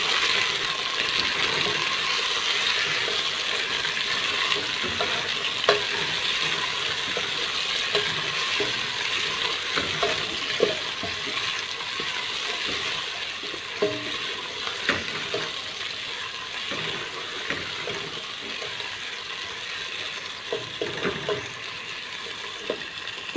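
Tomatoes and green chilies sauté in a pan for aloo gobi, a steady broadband sizzle that runs throughout, with scattered soft clinks and stirring scrapes, close and fairly quiet, with no talking.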